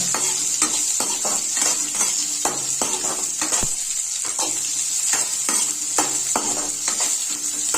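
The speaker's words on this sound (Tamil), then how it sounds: "நல்லா மிக்ஸ் ஆகிற அளவுக்கு கிண்டிக்கங்க." Potato rice with onion sizzles steadily in a frying pan while a utensil scrapes and stirs in a regular rhythm, with occasional light clinks of metal.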